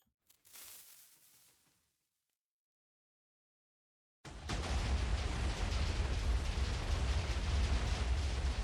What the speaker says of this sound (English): Should see explosion right there.